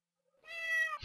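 A single clear, high-pitched cat meow in Minecraft with the Mo' Creatures mod, close and alone, ending abruptly in a short burst of noise.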